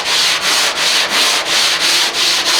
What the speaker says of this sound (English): so as I start sanding, I'm finding chunks of blue